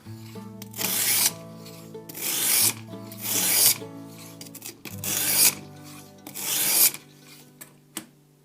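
A knife blade scrapes across the 120 grit stone of a RUIXIN Pro sharpener in five or six rhythmic rasping strokes, each building to a gritty peak, close and clear with short pauses between.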